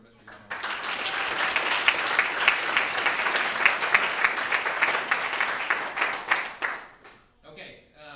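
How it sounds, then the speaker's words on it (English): An audience at a military cadet commissioning ceremony breaks into warm applause, dense clapping rising quickly, holding steady for several seconds, then thinning out to scattered claps and quiet. "So a round of applause, please, for Mr. Yano."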